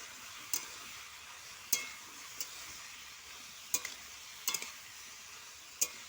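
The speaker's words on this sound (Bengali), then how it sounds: "হলুদ, লঙ্কা গুঁড়ো, নুন দিয়ে সবজিটাকে ভালো করে চাপা দিয়ে কষিয়ে নিচ্ছি।" Chikni greens sautéing with turmeric, chili powder and salt give off a soft, steady sizzle, broken now and then by sharp clicks of a spatula against the pan.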